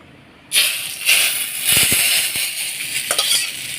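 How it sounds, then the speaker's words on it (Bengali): Dried red chillies and mustard seeds hit hot oil for a tempering over dal, bursting into a loud, steady broadband sizzle that holds for several seconds, with a few crackles and pops near the end. "এই যে সোমবার শুকনো লঙ্কা আর সর্ষে এই দেখো ফোড়ন দিয়ে দেবো"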